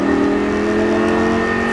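A loud race car engine roars steadily at high revs, accelerating hard with a continuous buzzing drone and no voices.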